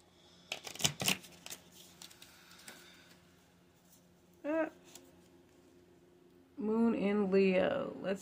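A deck of moon oracle cards is shuffled in a short, crisp riffle of flicking cards, followed by quieter shuffling and then someone talking.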